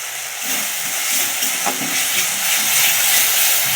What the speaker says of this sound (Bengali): সব মশলাগুলো দিয়ে একে একে করে কষবো।